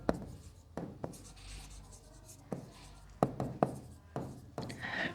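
Writing on a board during a class 10 maths lesson, several distinct scratchy strokes and knocks in separate bursts, close and clear with faint voice traces in between.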